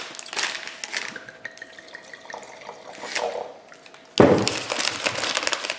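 Water splashes and runs inside a wine glass being rinsed, a few soft drips first, then a louder, steady rush of pouring and swirling close by, with no talk.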